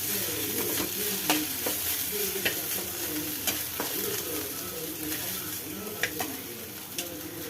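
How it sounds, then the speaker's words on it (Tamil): Crispy fried sweet corn tossed with chaat masala, salt and chilli flakes is stirred in a pan, with repeated sharp scrapes of the spoon over a constant close sizzle. "இப்போ இதை மிக்ஸ் பண்ணிக்கலாம்."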